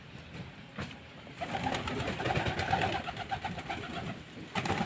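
A flock of pet pigeons coos in a loft, overlapping soft rolling coos rising and falling nearby, with a low rumbling background throughout.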